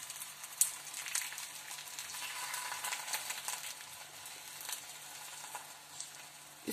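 Besan roti with ghee sizzling and frying steadily on a hot griddle over medium heat, a continuous crackling hiss heard up close with no talking.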